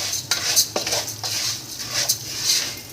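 A metal utensil stirs browned vermicelli in a pan, with sharp clinks and scrapes against the pan at an irregular rhythm over a low steady hiss, close and fairly loud.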